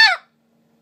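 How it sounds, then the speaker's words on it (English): One short, loud, raspy bark blown close up on a Basin Calls White Devil snow goose call, followed by silence and the start of another sound at the very end. "if you want a good, raspy, single bark, squeeze down, and just remember, work that finger like the goose is working its bill"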